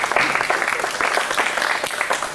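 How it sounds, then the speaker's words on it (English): Audience at a county fair meat goat show applauds the yearling division exhibitors: a dense, steady wash of many hands clapping, fairly loud and continuous throughout, with a voice faintly mixed in. "would everyone please give these exhibitors a round of applause for this division"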